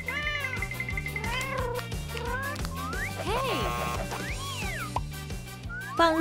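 A kitten gives several high, sliding meows in quick succession over a steady, rhythmic music bed, with the cries standing out clearly and up close.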